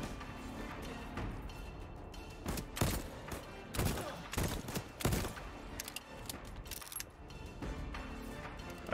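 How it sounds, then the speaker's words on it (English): Gunfire in the video game Voidtrain comes as a burst of several sharp, loud shots in quick succession over a constant background rumble. "I heard someone else shoot over here."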